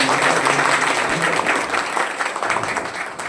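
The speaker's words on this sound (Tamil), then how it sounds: "ஒரு பெரிய கைத்தட்டலோட வரவேற்பு" Applause from an audience at a Pongal festival gathering, welcoming a High Court judge as chief guest; steady, fairly loud clapping fills the whole moment with a faint voice or two underneath.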